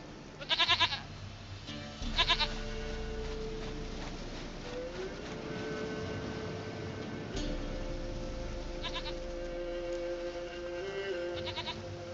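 A goat in The Witcher 3 bleats in several short bursts spread across the scene, moderately loud, with a quiet continuous game ambience and faint ticking between calls.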